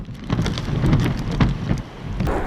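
Heavy typhoon rain pours in Hong Kong amid strong wind, a dense, steady hiss with louder gusty bursts and scattered drops striking nearby surfaces.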